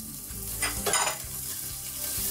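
Garlic and onion frying in hot oil, a bright continuous sizzle close by, with a brief flare of louder crackle as ingredients are stirred in the pan.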